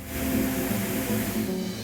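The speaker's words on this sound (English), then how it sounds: "it's still coming out of the nozzle in a liquid spray" A steady, forceful hissing spray of high-pressure hot water from a nozzle runs without pause, loud and close.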